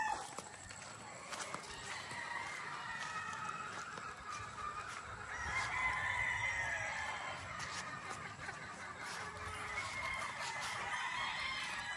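On a farm, broodcock roosters crow and fowl cluck at some distance, the calls overlapping through a steady outdoor bustle with faint stepping sounds.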